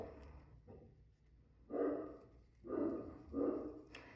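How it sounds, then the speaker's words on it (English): Indoor dogs bark in three distinct muffled bursts at a moderate distance, each lasting about half a second, separated by short quiet gaps, with a faint earlier yip. "Sorry about my dogs, that they're barking"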